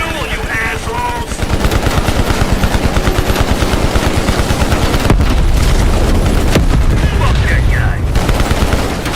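Rapid automatic gunfire in Call of Duty: Cold War, loud and sustained in dense bursts with heavy booms, while a voice shouts over the shooting.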